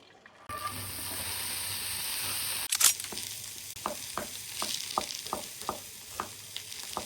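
Ingredients drop into a hot frying pan of mustard oil, setting off a sudden burst of sizzling followed by steady frying hiss with a series of regular stirring or scraping taps close by; no talking.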